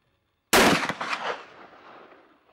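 A single loud rifle shot fired at a target on an outdoor hillside, a sharp crack with a long rolling echo fading over about two seconds.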